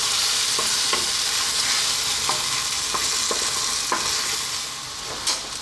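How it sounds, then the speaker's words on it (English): A cream and Parmesan sauce for chicken broccoli linguine bubbles and sizzles hard on high heat, a loud, constant hiss broken by the scrape of a spoon stirring every second or so, with no voices. "Stay on this high heat and go for 2 minutes, mixing all the time now."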